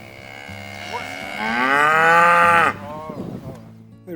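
Cattle on a biodynamic community-supported farm give one long, loud, close moo that rises and swells before tapering off, with a lower grunting call under and after it.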